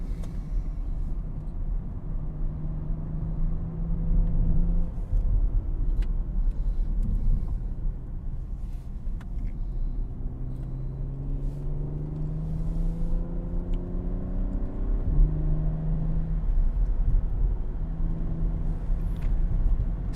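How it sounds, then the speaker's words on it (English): BMW Alpina B3 driving uphill on a winding road, a steady low engine and road rumble heard from inside the cabin, with the engine note rising and falling through gear changes and corners. "it's really fun to drive the new BMW Alpina"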